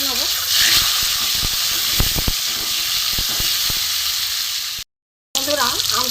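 Raw green mango pieces fry in oil tempered with dried red chillies, a continuous hissing sizzle with scattered crackles and pops, near and moderately loud, cut by a brief gap of silence.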